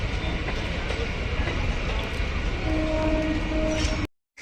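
A crowded Matribhumi Local bound for Krishnanagar City rumbles loudly and steadily through a platform at Dum Dum junction, with a horn-like tone sounding late before the sound cuts off abruptly.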